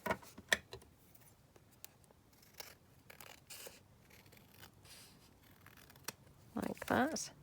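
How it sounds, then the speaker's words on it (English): Scissors trim along the edge of a glued paper envelope: a few soft snips and rustles scattered through, with a louder cluster of cuts near the end, close and fairly quiet. "I'm just going to trim along here."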